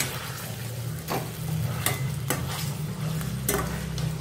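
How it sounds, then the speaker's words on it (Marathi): Chicken pieces are stirred and mixed in a pan, giving a steady sizzling fry beneath several sharp scraping strokes of a utensil against the pan, close and fairly loud, with no voices. "आणि हे आपण हे चिकनचे पीस मिक्स करून घेऊया."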